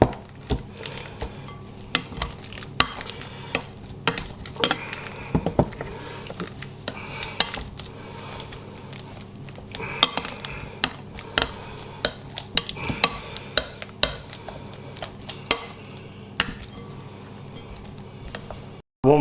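Bananas being mashed in a bowl for banana cake give a steady run of close clinks, scrapes and taps of utensil on bowl, continuous and busy with no talking.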